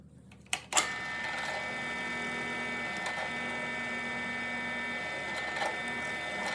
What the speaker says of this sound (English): so I'm gonna try to find a spot that doesn't already have a hole drilled in it and use that area.